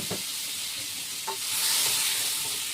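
Taro poured into a hot pan of oil with burnt cumin: a few clattering drops and taps, then a broad hiss of frying swelling up in the second half, close and fairly loud, no voices.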